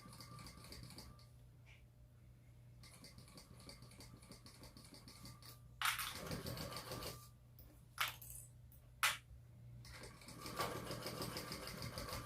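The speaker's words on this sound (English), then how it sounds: "I'm just going to stitch" A sewing machine stitches firm and clear vinyl for a purse, running in a steady mechanical whir with pauses and a few sharp clicks between runs, close and alone.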